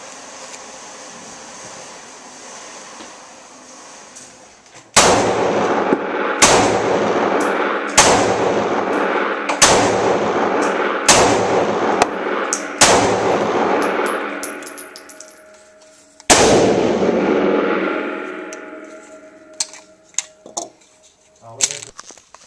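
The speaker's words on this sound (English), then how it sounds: "these are the first shots on the ARX" Gunshots from a pistol firing Ruger ARX ammunition at a target about 10 yards away on a range: seven loud, booming reports spaced roughly one to two seconds apart, then one more after a pause, with echoing decay.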